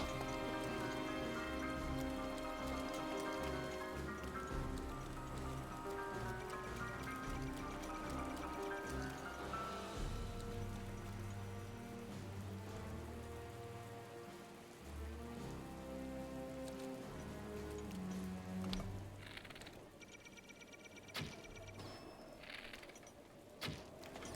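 Steady rain falls in the video game Zelda: Breath of the Wild, a dense continuous patter on surfaces with trickling water, fading slightly toward the end.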